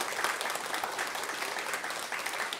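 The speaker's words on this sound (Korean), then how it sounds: "잘할 줄로 믿고 잘했다고 수고했다고 축하한다고 박수 한번 좀 쳐주시기를 바랍니다." A church congregation at a Korean thanksgiving worship service applauds, a continuous wash of many hands clapping together, fairly soft and even throughout.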